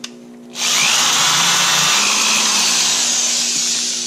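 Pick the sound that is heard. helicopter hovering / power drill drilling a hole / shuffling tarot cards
power drill drilling a hole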